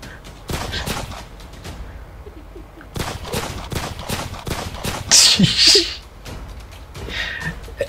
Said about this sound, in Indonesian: Ya tembak-tembakan.